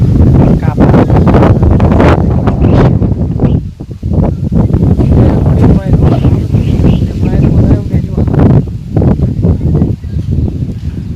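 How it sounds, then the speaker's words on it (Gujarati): Strong wind buffets the microphone in loud, continuous gusts, roaring and rumbling throughout with brief lulls. "ભારે વાયરો છે"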